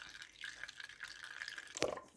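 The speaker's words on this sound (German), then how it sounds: "da muss viel Kontaktlinsenmittel rein" Contact lens solution is poured into homemade water slime, giving faint, scattered wet drips that end in one sharper splash near the close.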